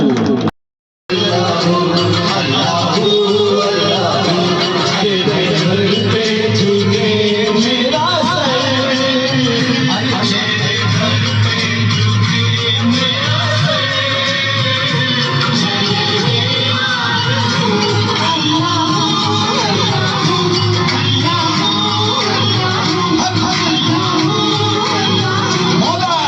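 A studio audience applauds and cheers after a ghazal singing competition performance, giving steady loud clapping with shouts throughout and no pause after a short gap at the start.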